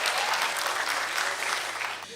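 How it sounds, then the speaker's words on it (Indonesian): At a comedy show, a crowd gives thick, continuous applause at moderate volume for a couple of seconds, easing slightly as it closes. "Boleh minta tepuk tangan untuk kalian semua,"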